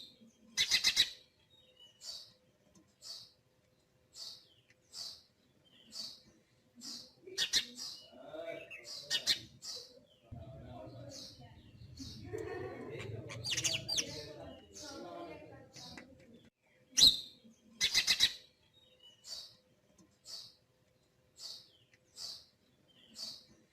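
A small bird gives short, evenly spaced chirps while pecking at grains, repeated calls standing out against quiet, with a soft low rustle in the middle and no talking.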